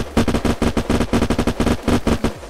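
Rapid automatic gunfire in the video game Unturned rattles off in quick, steady bursts, loud and close, with no pauses or voices.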